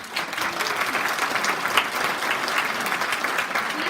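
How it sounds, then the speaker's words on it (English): A town hall audience at AB Tech gives state lawmakers a round of applause, with dense, steady clapping that holds at an even level throughout and no voices on top. "Let's give them a round of applause, y'all."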